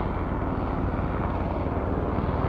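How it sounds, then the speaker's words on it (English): A helicopter flies overhead during an outdoor speech, its rotor drone steady and loud throughout the short stretch, with no voices. "Biden sent his helicopter to try to disrupt my speech"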